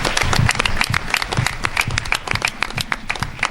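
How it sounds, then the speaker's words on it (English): A room full of people claps in a round of applause at a school board of education meeting, with crisp, irregular individual claps that stay fairly steady and close, thinning slightly toward the end. "give them a round of applause"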